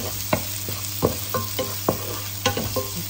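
Onions being stirred as they fry in a pan for crab and shrimp curry, with repeated scraping knocks of a utensil against the pan at an uneven rhythm over a continuous close sizzle.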